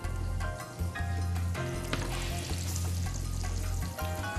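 Oil and butter sizzle and crackle steadily in a frying pan, a dense continuous frying hiss with faint clinks over it.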